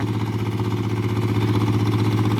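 A Yanmar 150 farm tractor engine chugs steadily nearby in a rice paddy, a loud, low rhythmic diesel thrum without pauses.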